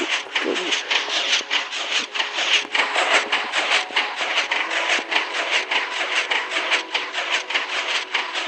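Train rolling on rails in the Minecraft video game: a fast, regular clacking rhythm with a steady rushing hiss, continuous and fairly loud throughout, with no clear talk.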